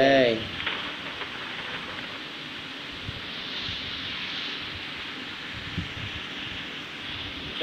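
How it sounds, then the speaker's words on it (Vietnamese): Heavy rain pours in a continuous, dense wash of noise from start to finish, with a brief voice at the very beginning. "Trời nãy giờ mưa hoài không dứt các bạn ơi."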